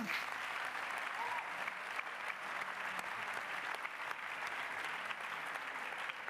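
Sustained audience applause at a public debate on the commission of inquiry into sexual and gender-based violence, held at the Fête de l'Humanité 2025, fills the room steadily and evenly from start to finish without pause.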